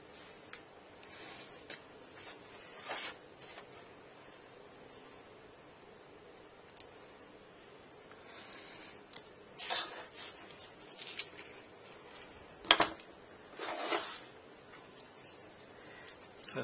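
Small scissors cut angled pieces for a model airport single jetway, heard as faint, close snips and scraping rubs in scattered bursts separated by quiet pauses, with no voices.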